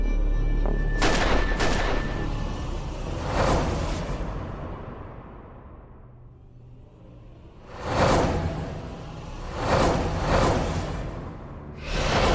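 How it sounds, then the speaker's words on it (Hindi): Gunshots fired into the air during a Hindi TV crime drama scene: a few loud sharp reports early on, a quiet gap, then three more spaced blasts toward the end. "ये हवाई फायरिंग करूं क्या?"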